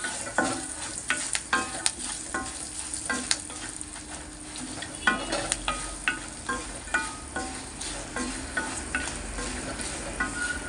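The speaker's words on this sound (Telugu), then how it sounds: "ఎల్జీ ఇంగువ వేస్తున్నాను ఫ్రెండ్స్" Asafoetida sizzling in hot oil while being stirred, with a steady crackling fry and repeated scraping strokes of the spoon against the pan, close and without speech.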